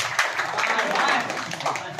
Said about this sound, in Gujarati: એક જોરદાર તાળી થઈ જાય.